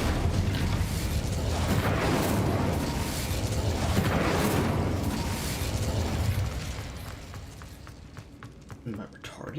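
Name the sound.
Incendio fire spell cast in a Harry Potter video game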